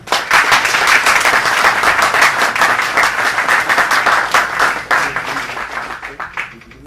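A room audience applauds loudly as a speaker is welcomed at a commemorative lecture, steady dense clapping from the start that thins and fades near the end.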